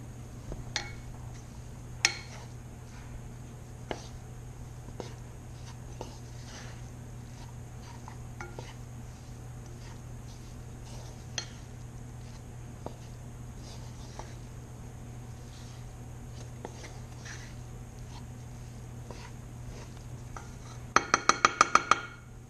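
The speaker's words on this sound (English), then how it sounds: "we're just going to keep stirring until this cheese is all melted" Parmesan basil orzo being stirred in a pot as the cheese melts, with soft utensil scrapes and faint clinks over a steady background hum, ending in a quick burst of rattling taps.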